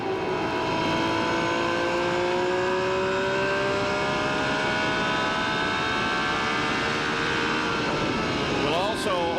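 Onboard a Menard-engined IndyCar at Phoenix in 1996, the engine drones steadily at high revs as the driver works the throttle, with a brief blip near the end over constant rushing noise.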